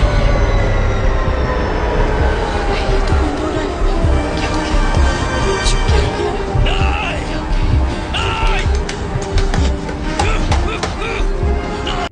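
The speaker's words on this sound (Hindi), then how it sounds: "ट्रेन भी चलने लगती है।" A train rolls steadily along the tracks in a thriller film scene, a continuous loud rumbling clatter of wheels with occasional metallic squeals and clanks throughout.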